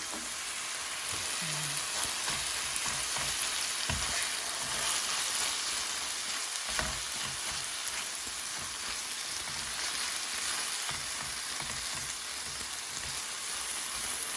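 Canned tuna frying in a pan, a steady close sizzle and crackle throughout with occasional stirring clatter, no talking.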